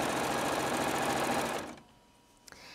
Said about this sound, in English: raise the presser foot, turn the fabric out of the way, and stitch